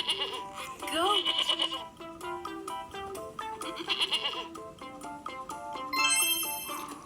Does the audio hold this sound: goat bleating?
yes